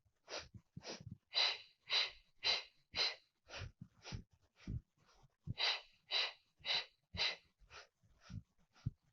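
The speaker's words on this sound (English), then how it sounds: "We inhale and exhale." Rhythmic breathing in and out during a Pilates mat exercise, about fifteen audible breaths in a steady alternating pattern, close and fairly clear with no talking.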